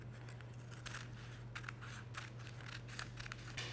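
Scissors snip through a sheet of parchment paper in a home baking kitchen, giving a series of short, crisp, papery cuts close by over a steady low electrical hum.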